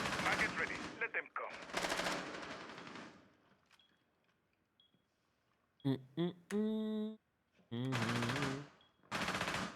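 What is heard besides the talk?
gunfire in the video game Rainbow Six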